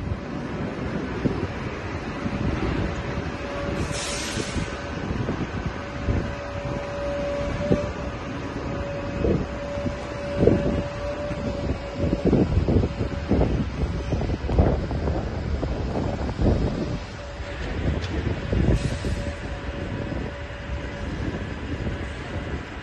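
A mechanical aerial tram at the rooftop park of San Francisco's Transbay Transit Center rolls along with steady rumbling and clanking, under gusty wind noise buffeting the microphone; no talking.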